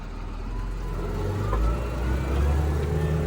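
A wheeled tractor engine runs in fourth gear of the B range with the front axle engaged, pulling a Veles Agro 4 m implement, a steady low close drone with slight rises in load.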